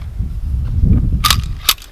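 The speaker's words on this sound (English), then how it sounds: "Click instead of a bang." An M17 pistol misfires on a shooting range, giving a sharp metallic click instead of a gunshot; two short, crisp clicks stand out over low rumbling background noise.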